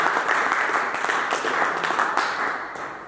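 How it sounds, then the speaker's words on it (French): A church congregation breaks into applause, a dense, fairly close wash of many hands clapping that holds steady for a few seconds before tapering slightly. "Je pensais qu'il fallait acclamer ça."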